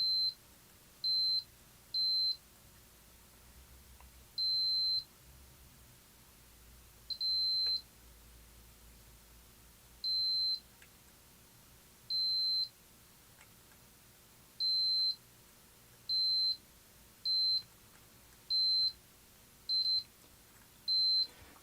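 Multimeter continuity tester beeping while probing traces on a battery-damaged Power Macintosh 6100 logic board: a series of about fourteen short, clear, high-pitched beeps at irregular intervals, some longer than others, over a quiet background.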